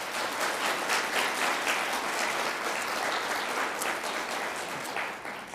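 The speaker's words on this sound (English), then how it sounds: "Please recognize them with a round of applause." An audience at a Direct Sellers Day award event gives a round of applause, dense continuous clapping that holds steady and eases slightly at the close.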